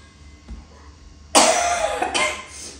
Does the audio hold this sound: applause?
no